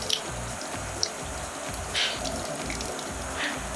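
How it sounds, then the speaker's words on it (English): Running tap water rinses a bundle of parsley in a sink, a steady close splash and gurgle with a few brief drips and clinks, no talk. "you want to do this until that green running water starts running clear"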